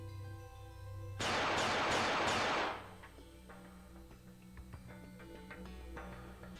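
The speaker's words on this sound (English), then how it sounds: "Gunshots rang out during the declaration, and the police officers were shot." A rapid burst of gunshots cuts through a visual novel scene as police officers are shot. The loud, dense volley lasts about a second and a half over a steady musical backdrop.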